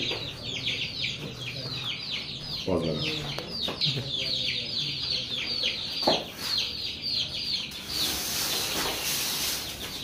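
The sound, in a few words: chicks clucking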